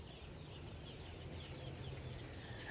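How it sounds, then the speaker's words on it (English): Chickens cluck softly and irregularly in a garden yard where they are pecking at chicks, the faint calls set against a steady outdoor background hiss. "Chickens are beating up the chicks."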